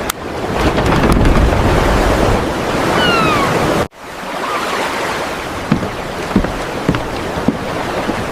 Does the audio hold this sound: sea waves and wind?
yes